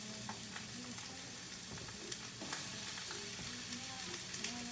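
Onions, celery and carrots frying in chili oil and sesame oil, a steady close sizzle with light crackles and occasional stirring clicks, no talk.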